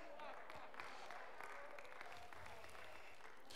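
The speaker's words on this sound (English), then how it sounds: "Don't you clap if you don't mean it" Church congregation clapping during a sermon, a soft, continuous spread of applause heard at a distance and fairly low in level, with some voices underneath.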